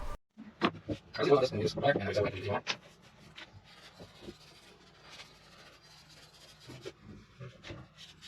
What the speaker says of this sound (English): I'm going to get some rubbing alcohol, and we'll clean this up before, you know, as best we can.